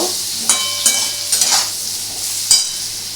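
A spoon stirs potato curry for a peanut-paste aloo dum in a pan, with several sharp scraping strokes spaced over a soft background sizzle, no voice present.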